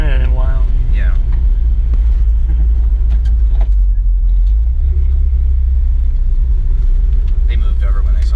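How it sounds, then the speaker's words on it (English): A pickup truck drives along a road, its engine rumbling loudly and steadily under constant road noise, with people talking throughout. "for a little drive in my truck as well"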